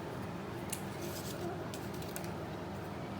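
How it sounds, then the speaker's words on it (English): Scissors snipping through scrap paper, a few crisp quick cuts spaced irregularly over a steady low background hiss, close and fairly quiet. "You can cut them in different sizes, some big, some small."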